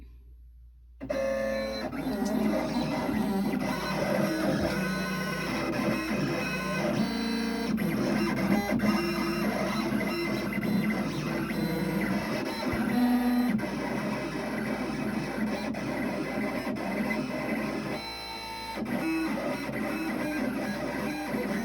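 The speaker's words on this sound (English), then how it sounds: "So you'll see it's cutting the whole design out" A US Cutter SC2 vinyl cutter cuts out a design, its motors whirring and buzzing continuously at close range, with the carriage shifting pitch as it moves.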